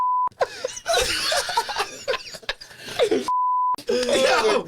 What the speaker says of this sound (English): beep, beep, beep, World War II, beep, beep, beep, beep, beep. Just bleep the whole area.